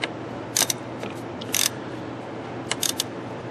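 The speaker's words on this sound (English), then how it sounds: "And then snug them down with the ratchet." Ratchet clicks in short bursts as thermostat housing bolts are snugged down on a 2005 Ford Explorer, three crisp close-up clusters separated by pauses over a low background hum.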